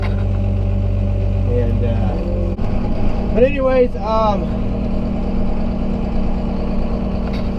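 A tractor with a spreader hooked up runs steadily as it drives into a shed, its loud, constant engine rumble continuing under a voice talking throughout.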